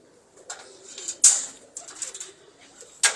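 Jugnu and Red Bull breed pigeons coo softly in short bursts, with a few brief sharper calls and a sudden rustle near the end, close and alone without talk.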